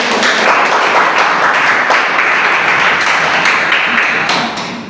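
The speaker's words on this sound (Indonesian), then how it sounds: "Tepuk tangan dulu, tepuk tangan." Applause from a class during a teaching session, dense steady clapping that fills the whole clip at close range, fading slightly at the very end.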